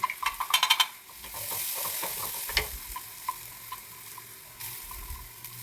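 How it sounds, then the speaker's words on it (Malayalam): Crushed coconut mixture is fried in a pan with popped mustard seeds for green gram thoran, starting with quick spatula taps, then a loud steady sizzle with occasional stirring clicks, no speech. "ഈ ചതച്ച് വെച്ച തേങ്ങയും എല്ലാം കൂടെ ഒന്നിട്ട് മൂപ്പിക്കണം"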